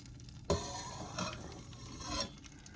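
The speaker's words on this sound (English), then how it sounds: "I am melting 1 tablespoon of butter, and then I'm going to add in half of my garlic" Garlic added to melted butter in a pan for couscous sizzles quietly, with a sharp clatter as it drops in and a couple of softer stirring scrapes, close and faint, with no talking.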